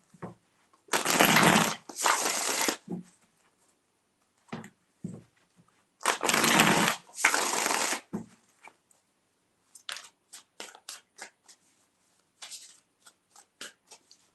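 Tarot cards being shuffled in two long, loud riffling bursts, each running a couple of seconds, followed by lighter scattered flicks and taps of the deck settling between them.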